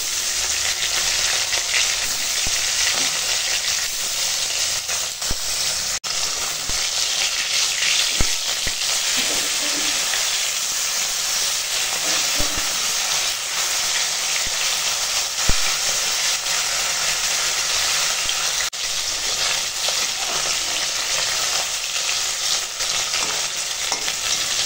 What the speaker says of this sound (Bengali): তেল গরম হয়ে গেছে, আর এখন মাছ ভেজে নেব।